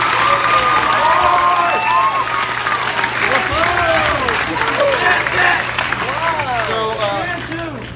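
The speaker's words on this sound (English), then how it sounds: "this round of applause does not wake you" Applause from a hypnotist show audience, a loud continuous crowd roar with clapping and cheering, lively voices and shouts rising over it throughout, tapering slightly at the end.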